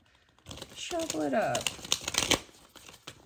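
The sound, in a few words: shuffling oracle cards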